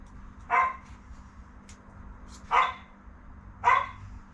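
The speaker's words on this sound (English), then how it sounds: "Barking dog in the background." A dog barks three times at a moderate distance, short sharp barks spaced a second or two apart, with a low steady hum underneath.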